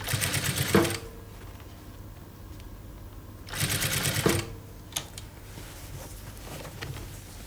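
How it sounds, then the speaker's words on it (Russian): A sewing machine stitches a lined garment with a 1 cm seam allowance, running in two close, loud bursts of rapid mechanical chatter separated by a quieter pause with faint handling noises. "Шьем на сантиметр."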